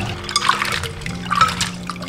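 Running water streams over razor clams being washed of mud, a continuous close trickle and splash with soft bursts of handling in the stream.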